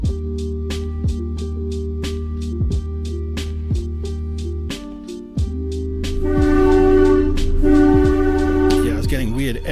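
A train horn sounds out loud and sustained from inside the cab of a train, with a rhythmic clatter of wheels over rail joints beneath it, swelling louder toward the end.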